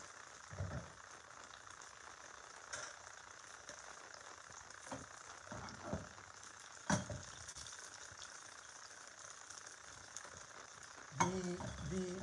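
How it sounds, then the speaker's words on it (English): Onion frying in butter over medium heat in a pan: a faint, steady sizzle runs throughout, with a few soft clicks and stirring knocks along the way. "So 1 onion. And then I'm going to cook it with some butter."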